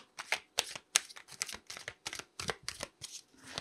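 A deck of tarot cards is shuffled by hand to pull an affirmation card, giving a rapid series of crisp riffling bursts, close and clear, with no voices.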